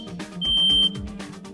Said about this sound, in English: Finally, insert the Roost smart battery into your smoke alarm and test it out.